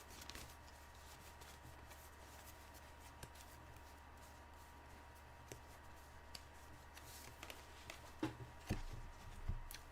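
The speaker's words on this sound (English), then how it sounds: "let me just briefly shuffle my deck." Faint, quiet shuffling of tarot cards with light scattered taps, growing a little louder toward the end.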